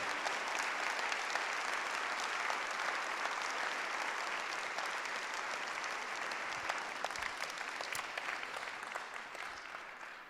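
Steady applause rises from the gathering at a French municipal council installation session for a new mayor and deputies, a sustained, even wash of clapping that fades slightly toward the end, heard alone without speech.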